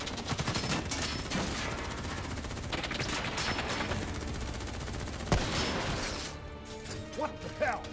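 Heavy automatic gunfire in the Call of Duty: Black Ops III campaign, with dense continuous bursts and a sharp louder crack near the end, and faint voices under the shooting.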